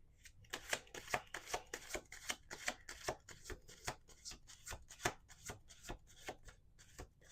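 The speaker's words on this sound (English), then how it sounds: "one more shuffle" A deck of tarot cards is shuffled over and over, a steady run of soft riffling bursts and slaps at a close, even pace, quiet and alone.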